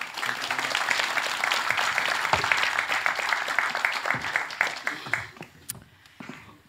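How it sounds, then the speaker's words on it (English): A summit audience gives a warm round of applause, dense clapping from many hands that holds steady, then thins into scattered individual claps and fades out near the end. "A warm applaud."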